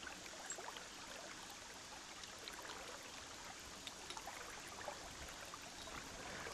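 Water dripping and trickling from a tap aerator after a harmonizer is unscrewed from the faucet, a faint, steady patter that continues alone throughout.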